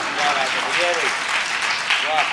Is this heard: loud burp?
no